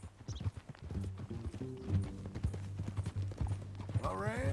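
Horse hooves clip-clop at a walk in Red Dead Redemption 2, an even run of close hoofbeats under low game music and ambience, with a brief whinny-like rise near the end.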